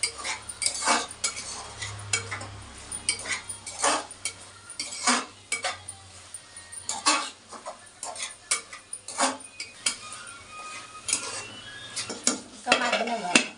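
A spoon stirring ridge gourd and tomato curry in a pan, repeated clinks and scrapes of metal against metal in an irregular rhythm, close and fairly quiet, with a faint sizzle underneath.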